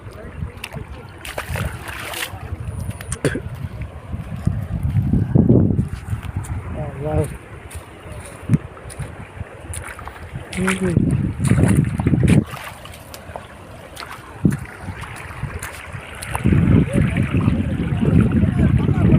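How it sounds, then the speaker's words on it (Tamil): Rushing water spilling out of a rain-filled lake during heavy rain, a steady roar mixed with wind buffeting the microphone, while people talk and laugh over it. "சத்தம் கேட்குதா தண்ணி சவுண்டு"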